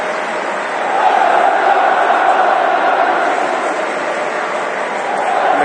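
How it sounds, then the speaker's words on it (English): Football stadium crowd at a Chelsea versus Udinese match, a steady broad roar of massed voices filling the ground, loud and continuous with no clear individual calls. "And the crowd starting to make themselves heard."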